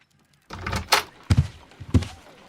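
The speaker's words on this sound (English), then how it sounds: "No, I just heard the front door." A front door opening in the video game Sherlock Holmes Crimes & Punishments: a close creak and rattle, followed by a couple of heavy thunks and knocks in an otherwise quiet room.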